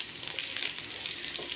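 Cumin seeds frying with ginger and garlic in hot oil give off a dense, steady hiss, a short continuous close-up sizzle with no voices.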